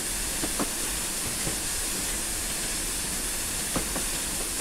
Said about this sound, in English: Because the safety valves were open and it was blowing off.